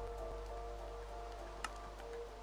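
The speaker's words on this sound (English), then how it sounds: "And it's raining too." Steady rain falling in Minecraft, a continuous even hiss with a soft low rumble beneath it and one brief brighter tick partway through, no voices.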